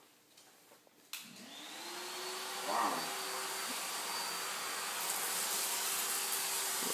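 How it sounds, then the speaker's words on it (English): A household vacuum cleaner switches on with a click and runs with a steady, loud droning whine that builds and holds, while a voice briefly exclaims over it. "Turn it back on. Vacuum some more."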